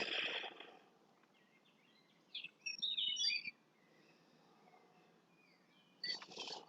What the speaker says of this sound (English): I hope you can hear the birds too.